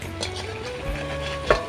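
Battered eggplant fritters frying in oil, a soft continuous bubbling sizzle close by, with no talk.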